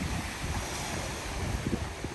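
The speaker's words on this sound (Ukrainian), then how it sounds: "Ну тут ось так такі вони хвилі ці." Water waves wash continuously under gusty wind outdoors in cold weather, forming a steady, faint, broadband rush with no distinct breaks and no talking.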